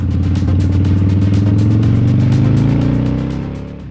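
Harley-Davidson motorcycles riding over Matakana hill give a loud, steady low engine drone that rises in pitch as they accelerate, then eases off toward the end, with no talking.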